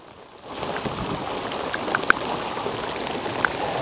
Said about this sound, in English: we got us a squall coming in